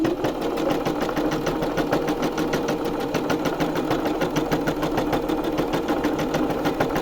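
A sewing machine runs decorative stitch pattern 62, giving a steady rapid mechanical clatter with a regular needle rhythm that stays close and fairly loud throughout, with no talking.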